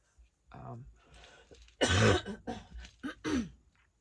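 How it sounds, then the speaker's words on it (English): A person coughs and clears their throat several times in short, harsh bursts, close to the microphone, with quiet pauses between them. "I've been coughing like this all morning."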